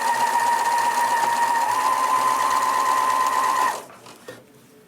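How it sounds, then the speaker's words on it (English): A sewing machine runs steadily at high speed, stitching opened quilt tubes together with a loud, close, even whirring hum, then stops, leaving a faint clunk of handling afterward. "I'm going to sew the 2 opened tubes together."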